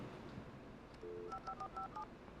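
Phone keypad tones being dialed in the video game Alan Wake: one longer tone, then a quick run of five or six short beeps, clear over a low murky game ambience, with no talk.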